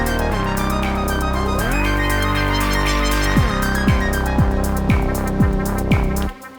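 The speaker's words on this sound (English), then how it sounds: "to open the filter and increase the resonance to create more tension" A bright Elektron Digitone synth arpeggio in fill mode runs steadily, its filter opening and resonance rising so it grows brighter and more resonant, with sweeping pitch drops punctuating the second half.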